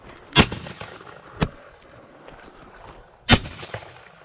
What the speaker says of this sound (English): If you look closely here, you'll see Kaylee's shot went over the top of it.